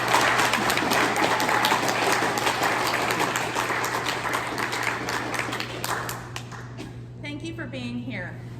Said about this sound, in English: Let's get another round of applause for our graduates.